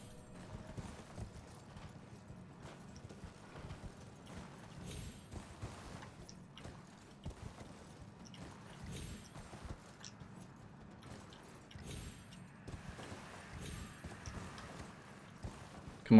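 Horse hooves clip-clopping in the video game Elden Ring, a soft steady gait repeating at a moderate pace, fairly quiet and low-level throughout with no talk.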